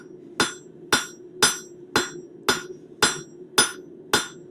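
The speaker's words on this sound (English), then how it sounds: "Using that edge of your hammer to pull it out" A hammer strikes metal to shape a leaf in eight evenly spaced, ringing blows, about one every half second, close and clear with a short ring after each hit.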